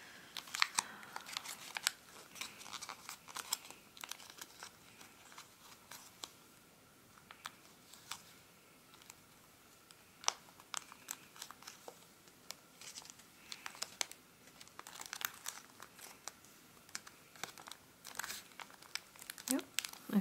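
Paper is folded into an origami circus elephant up close, with intermittent crinkles, creases and rustling taps scattered through the stretch, faint and irregular.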